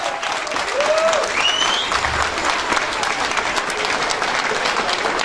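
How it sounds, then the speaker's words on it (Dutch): An audience at a youth election announcement in East Flanders applauds itself, a steady, crowded clatter of hands with a few whistles and cheers rising above it, holding level from start to finish. "Een applaus voor jullie zelf."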